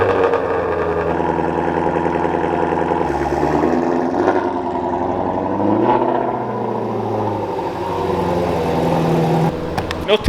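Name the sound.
Shelby GT350 cold start, engine revving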